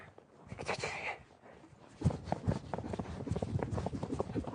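A horse presented as a gift clip-clops along on its hooves, the steps coming in an uneven rhythm that grows louder and closer midway, with no voices over them.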